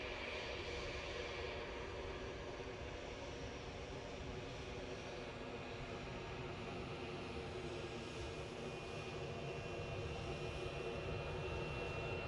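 A steady, faint rumble of jet aircraft taxiing at Edinburgh airport holds constant without breaks, heard from a distance across the apron.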